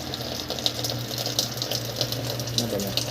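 An automatic washing machine with a fault, taking in water nonstop without washing or draining, fills steadily with a continuous rushing, hissing water flow and a low motor-like hum, with no talk.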